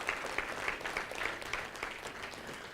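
Room of strangers at a live talk applauding, dense continuous clapping from many hands with a few sharper claps standing out, heard alone and moderately loud.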